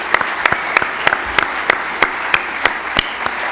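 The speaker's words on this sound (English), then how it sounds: "Let's give them a huge round of applause." Rhythmic applause for finalists at a student business pitch competition, sounding like a few people clapping in a steady, evenly spaced beat, moderately loud and close.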